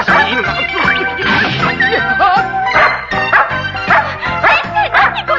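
Dogs bark, yip and whimper almost without pause in a cartoon chase, a dense, loud, close run of overlapping harmonic yelps that hold steady for several seconds.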